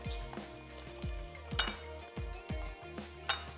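Mushrooms and prawns frying lightly in a pan, with a steady sizzle beneath repeated clinks and scrapes of a utensil against the metal, close and moderately loud.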